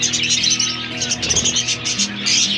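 Two budgie chicks in a clay breeding pot keep up a continuous thin, high chirping close by, with a low hum running underneath.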